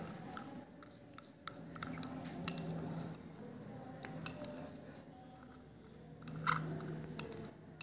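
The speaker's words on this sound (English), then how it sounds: "We will scratch it with the glass rod and put it in it." A glass rod scrapes and taps against a glass beaker holding cooled potash alum solution, making faint scratchy rubs and occasional small clinks, close-up and quiet, with no talk.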